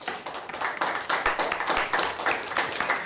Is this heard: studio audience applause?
yes